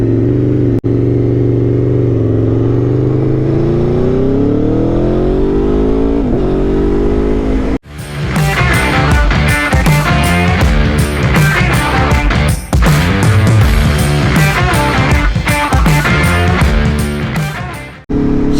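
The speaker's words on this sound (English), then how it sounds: "Gotta love the sound of a V4." Aprilia Tuono V4 Factory motorcycle engine revs up loudly and rises in pitch over several seconds, then gives way to loud rhythmic music that fills the rest.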